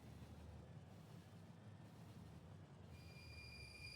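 Train from the video game Factorio rolling past, a continuous low rumble of wheels on track with thin high squealing tones joining near the end, steady and moderately distant, no voices.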